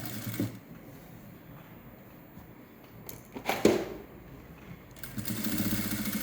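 A sewing machine stitches a patchwork blouse with woollen thread, running in short bursts and then a longer steady whir toward the end, fairly close and with no talking.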